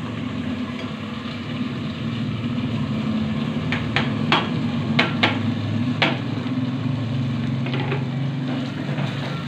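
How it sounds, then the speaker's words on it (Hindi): Mustard greens are added to a garlic-ginger paste that has been cooking for a few minutes, giving a steady loud sizzle with intermittent clacks of a spoon against the pan throughout. "लहसुन और अदरक की पेस्ट को अम्मी ने 2-3 मिनट पकाया है और अब अम्मी जो है साग डाल रही हैं।"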